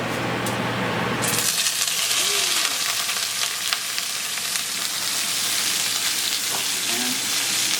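Steak frying in a hot pan with butter, a loud, steady sizzle that jumps in after a brief quieter start and then crackles on without a break, with no one talking.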